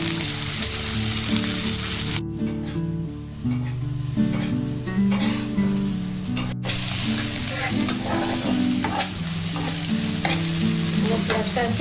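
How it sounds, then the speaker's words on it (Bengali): Onions added to hot fried whole spices in a pan, a loud steady sizzle with scraping stirring strokes throughout, briefly cutting out twice. "এখন আমার মশলা ভাজা হয়েছে, এখন আমি দিলাম পেঁয়াজ"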